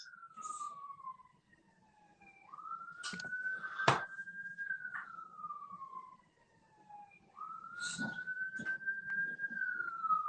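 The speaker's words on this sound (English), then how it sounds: "Can you hear the sirens?" Emergency vehicle sirens wail in long rising and falling sweeps, moderately distant, with a couple of sharp knocks in between.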